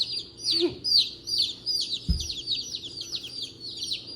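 Repeated high chirping calls from chickens run steadily throughout, with a couple of low thumps and soft clucking sounds underneath.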